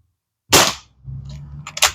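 A Beeman QB78D CO2 air rifle fires a single sharp, loud crack up close, followed by a brief low rumble and a faint metallic click or clatter.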